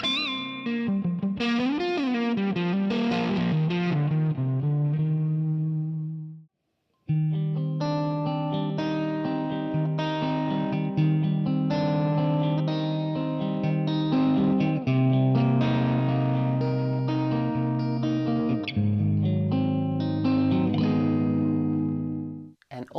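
Electric guitar chords ring out through a Line 6 Helix plate reverb with a lush, spacious tail, sustained notes blooming and overlapping, with a brief pause partway through.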